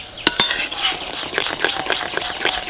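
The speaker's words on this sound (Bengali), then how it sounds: "সুজিটা দিয়ে এইভাবে নাড়তে থাকতে হবে" A spoon scrapes and stirs fried semolina through beetroot juice in a pan for beet barfi, with repeated soft clinks and wet scraping strokes at close range and no talking.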